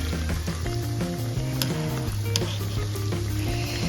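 Donut dough fries in hot oil with a loud, close, bubbling sizzle, steady throughout, broken by a few sharp clicks of something tapping against the pan.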